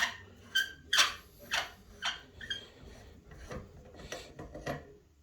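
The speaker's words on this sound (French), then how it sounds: "Dévisser le silencieux." A suppressor being unscrewed from an Aero Precision AR15 rifle, giving a series of close metallic scraping and ratcheting twists in uneven bursts.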